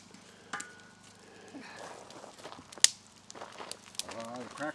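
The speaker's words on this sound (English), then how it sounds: "Crackling. That's what I want to hear." Campfire burning birch bark and sticks outdoors at a fishing camp, giving scattered crackles and small pops with one sharp snap, under low background rumble and some movement noise.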